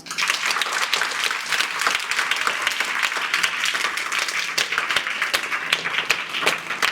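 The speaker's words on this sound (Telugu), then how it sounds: "అందరికీ కూడా మనము ఒకసారి గట్టి క్లాప్స్." An audience at a public event gives loud, sustained applause, dense clapping that stays steady and close throughout with no break.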